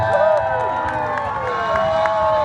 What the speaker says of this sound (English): the louder you cheer, the faster they're going to go